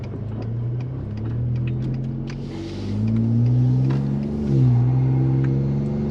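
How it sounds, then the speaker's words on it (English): A Ford F-150 twin-turbo pickup with aftermarket parts and 150,000 miles drives in a city. Its engine revs and hums steadily at close range, rising in pitch as it accelerates, with faint whooshing from the air intake and no voices. "you'll be able to hear the air intake and the blow-off valve"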